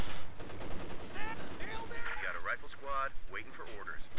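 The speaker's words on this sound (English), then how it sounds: "we're scared of machine gun fire." Machine gun and rifle fire from the World War II strategy game Company of Heroes crackles in the background of a 4v4 match while someone talks excitedly over it.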